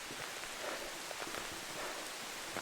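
Steady rain falling outdoors in Moray, Scotland, a dense close hiss of drops pattering on surfaces that continues evenly without a break and with no voices.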